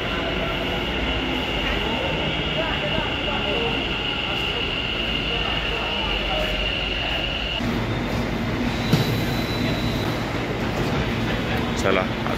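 A metro train in Ahmedabad pulls into a station platform with a steady, loud mechanical rumble and a high whine that cuts off partway through. People talk over the train noise.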